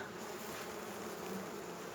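Dense, continuous buzzing of many honeybees close by at a hive, a steady droning hum with no pauses.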